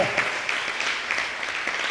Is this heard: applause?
yes